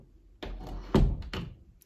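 A door fitted with an Amazon Basics satin nickel straight passage lever and a new strike plate swings shut, giving a few close wooden thunks and a latch click in quick succession.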